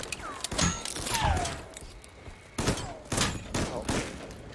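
Repeated gunshots in the video game VoidTrain, several close bursts of firing spaced across a few seconds with some metallic ricochet-like whines between them.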